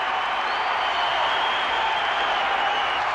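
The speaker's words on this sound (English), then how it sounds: "Can you hear me over this crowd out there? They're getting raucous." Raucous New Year's Eve crowd a few blocks from Times Square, a steady dense roar of cheering and clapping that holds at a constant loud level throughout, with no distinct voices rising out of it.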